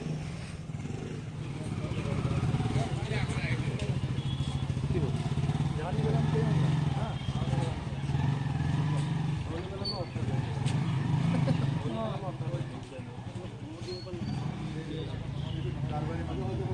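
A motorcycle runs at a driving licence test ground, its low engine drone steady in the background while people talk nearby throughout.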